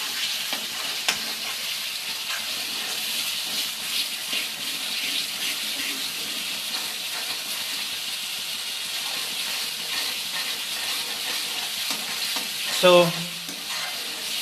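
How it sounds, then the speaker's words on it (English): Tomato puree paste cooks in a pan with a continuous soft sizzle and bubbling close by, joined by brief stirring scrapes, a short thump near the end and a single spoken word. "once this tomato puree is done, once it is cooked, automatically it will start releasing the oil"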